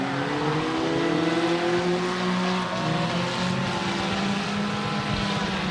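Race cars in the final heat race of the evening at US 30 Speedway roar past in a dense, continuous engine drone, with pitches rising and falling as the pack circles the track.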